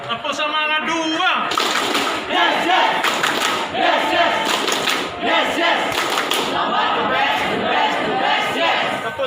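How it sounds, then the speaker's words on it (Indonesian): Crowd at a Paskibraka 2020 award ceremony in Lampung Barat performing a loud, sustained rhythmic spirit clap with shouts, dense and close, continuing throughout. "Tepuk semangat dua."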